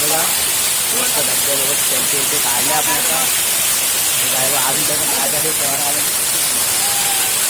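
Constant rushing water from a waterfall fills the scene as a dense, unbroken hiss, while voices talk on top of the roar.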